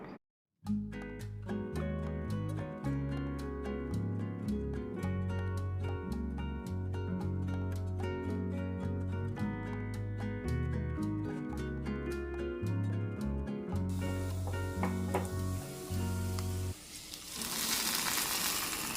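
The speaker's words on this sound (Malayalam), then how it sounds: "നല്ലതുപോലെ ഒന്ന് മൂത്ത് വരുമ്പോൾ നമ്മുടെ കറിയിലേക്ക് ഇത് ഒഴിച്ചു കൊടുക്കാം." Tempering hits a pot of tamarind pulungari curry near the end with a loud, hissing sizzle burst, after a long stretch of steady background music.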